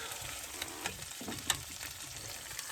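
Chorizo fries in a pan in an RV kitchen and releases its fat. A soft, steady sizzle with light crackles is heard, along with a couple of small utensil taps.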